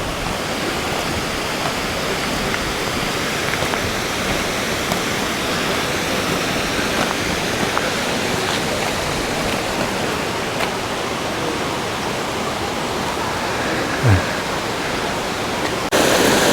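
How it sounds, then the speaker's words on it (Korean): Bridal Veil Falls near Vancouver, a waterfall in mossy forest, pours down in a loud, steady, unbroken rush of water that fills the whole scene without a pause. "계곡의 물이 시원하게 흘러내리고 있습니다."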